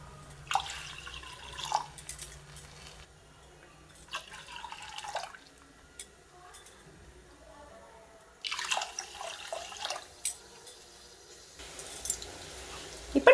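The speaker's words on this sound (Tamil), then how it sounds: "பருப்பு வறுபட்டுட்டு இப்போ நம்ம பாலும் தண்ணியும் சேர்த்துக்கலாம்." Milk and water are poured into a pan for varagu rice sweet pongal, in a few separate bursts of splashing liquid with quiet pauses between them.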